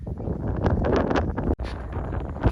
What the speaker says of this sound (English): And the wind's just starting to come up a bit.